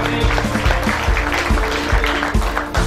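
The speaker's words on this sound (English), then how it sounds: "Big clap for Neeraj Sharma ji." Audience at an event hall clapping to welcome a guest, steady applause with some louder thumps close to the microphone, running the whole time without speech.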